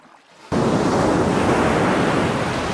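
Mediterranean sea waves break against rocks on a coast with almost no tide, a sudden loud wash of surf that stays as a steady roaring rush close by, with no voices.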